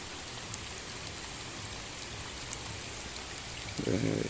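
Light rain falls steadily on a village fish pond, a soft continuous patter and hiss, with a brief louder splash or rustle near the end.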